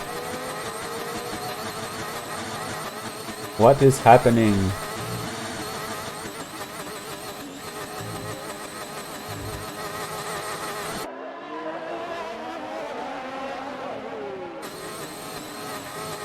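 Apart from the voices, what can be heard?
race car engine making a weird sound in a racing video game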